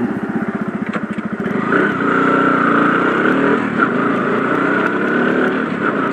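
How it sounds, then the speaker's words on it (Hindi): Motorcycle engine close by, a brief rhythmic idle chug followed by a steady, sustained engine drone as the bike pulls away and keeps running, with no talk over it. "सो देखते हैं बाइक चलती है कि नहीं।"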